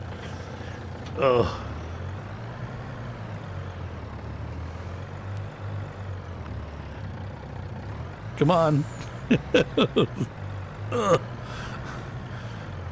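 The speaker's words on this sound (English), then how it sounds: "This truck don't have enough horsepower. It's trying." A forestry truck in Farming Simulator labors under heavy load, its low engine drone steady throughout, with a man's exclamations and gasps breaking in briefly near the start and again toward the end.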